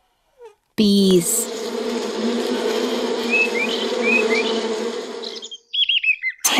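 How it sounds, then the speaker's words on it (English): Bees hum in a steady, dense, close buzz for about five seconds, with a few faint bird chirps on top before it stops. "Bees."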